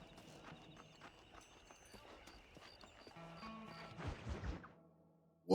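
Horse hooves clip-clop softly in Red Dead Redemption 2, a faint steady rhythm under quiet ambient game sound, rising briefly into a louder scuffle near the end.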